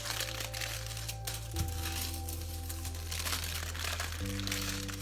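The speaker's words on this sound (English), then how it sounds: "I'm just folding each edge." Edges of a robot relief craft sculpture folded over to the back, giving close, soft crinkling and crumpling rustles over a steady electrical hum, with no talking.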